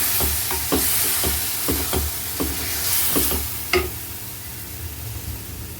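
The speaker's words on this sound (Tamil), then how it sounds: "இந்த தக்காளியை சேர்த்துக்கலாம். சேர்த்துட்டு நல்லா கிளறி விட்டுருங்க." Tomatoes sizzle and fry in a pan for a lentil-free sambar, stirred with a spoon that scrapes and taps at an irregular rhythm, close and steady, with no talking.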